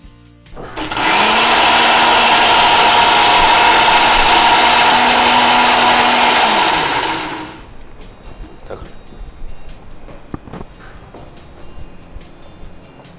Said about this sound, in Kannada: ಇದನ್ನು ಪುನಃ ಈಗ ಗ್ರೈಂಡ್ ಮಾಡಬೇಕು